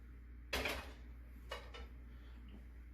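Chunky, grease-free ground meat for a hearty chili tipped into a pan, landing in one soft clattering thump followed by a second lighter scrape and knock against the metal, fairly close and otherwise quiet.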